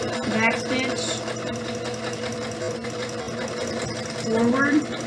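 Sewing machine stitching forward and back along a pillowcase seam, a steady close mechanical whir with brief shifts in pace as it reverses, while a person talks over it.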